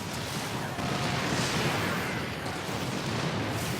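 StarCraft 2 siege tanks and liberators fire in a terran-versus-terran match, with missile turrets being destroyed. The result is a steady, dense wash of overlapping blasts and crackling impacts, with no pause across the whole stretch.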